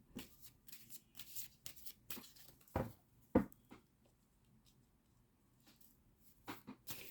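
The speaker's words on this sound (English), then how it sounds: "I am going to pull one final clue card for this reading." A tarot deck being shuffled by hand, with bursts of riffling card flutter and a couple of sharp snaps as a single card is drawn from the deck, close and fairly quiet, with no speech.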